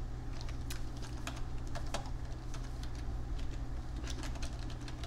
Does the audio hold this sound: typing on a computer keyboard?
yes